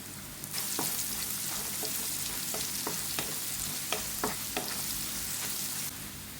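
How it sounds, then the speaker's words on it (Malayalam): Grated coconut and crushed garlic fry in a hot pan with a steady, even sizzle, broken by a handful of scraping stirs from a spoon, close and moderately quiet with no talking. "തേങ്ങ ചെറുതായിട്ട് മൂത്ത് വരുന്നുണ്ട്. വെളുത്തുള്ളി ചതച്ചുണ്ടല്ലോ, അതങ്ങോട്ട് ഇട്ട് കൊടുക്കാം."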